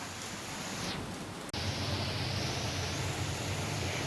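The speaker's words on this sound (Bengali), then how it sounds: "আর বৃষ্টি হচ্ছে" Steady rain falls in a dense, even hiss that holds at a constant level, broken only by a momentary dropout midway before resuming just as full.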